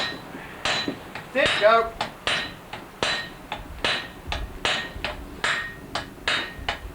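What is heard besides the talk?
blacksmith hammering hot steel, fullering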